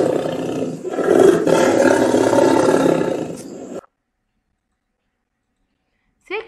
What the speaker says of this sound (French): Le son du tigre est...